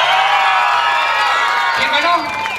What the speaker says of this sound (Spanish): Si creen que el primer lugar es para el Córdoba, el aplauso.